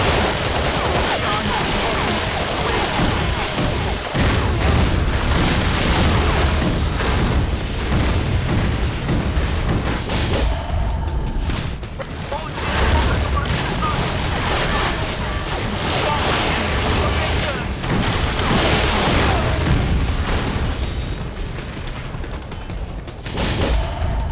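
Dense, continuous battle din in Battlefield 2: Modern Combat, with rapid gunfire and booming blasts layered into a loud, roaring wash that never lets up, and voices shouting amid it.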